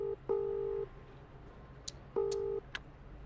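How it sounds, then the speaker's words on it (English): Cell phone dialing in the video game House Hunted 2: two short bursts of steady electronic dial tones with a few brief high beeps between them, clear over a quiet background. "You quickly pulled out your cell phone and called up the apartment company."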